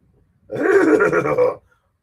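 A horse neighs once in a loud, close whinny of about a second, rising and then falling off, with no other sound around it.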